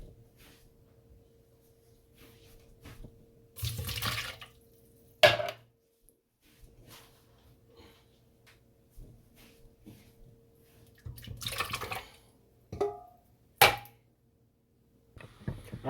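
Peaches tumble into a pot of melted butter for a graham cracker peach cobbler, heard as several short, wet plops and squelches with a metallic knock against the pot between quiet pauses.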